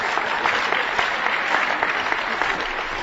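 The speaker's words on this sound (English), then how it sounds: "I don't know if you're applauding the questioner or me" A lecture audience applauds steadily for a few seconds, a dense, even wash of many hands clapping that fills the room with no voices over it.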